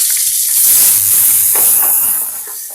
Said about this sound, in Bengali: এরপর চিংড়ি মাছগুলোকেও আমি ভেজে নেব।